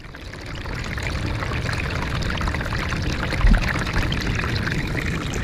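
Gold prospecting material from the last bucket pours steadily in a continuous rushing wash of water and sediment, with a brief heavier splash near the end and no talking.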